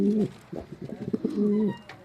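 Soft, low cooing of pigeons nearby, a couple of throaty calls with quieter rustling between them.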